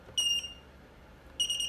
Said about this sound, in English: it began to beep beep beep